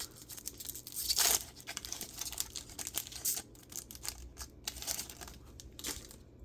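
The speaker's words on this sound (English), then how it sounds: "Here we go into pack number 2." A foil pack of 2024 Select or 2025 Elite football trading cards is torn open close up, with crinkling and ripping in quick bursts, then softer rustling as the cards are handled.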